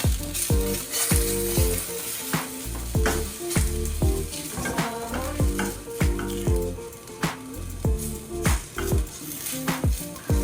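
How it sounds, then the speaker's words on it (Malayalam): Potato pieces frying for a Spanish omelette, with a steady close sizzle in a pan and repeated scraping, clinking stirs of a utensil as they are turned over and over. "ഇടയ്ക്ക് ഞാൻ പൊട്ടറ്റോ തിരിച്ചും മറിച്ചും ഇട്ട് കൊടുക്കുന്നുണ്ട്."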